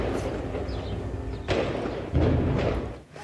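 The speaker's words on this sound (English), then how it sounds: "The sound of explosions rolled through Rafah" Explosions in a war zone in Rafah, Gaza, heard as deep rolling booms, with two heavier thuds landing about a second apart over a constant low rumble, fairly loud and with no speech.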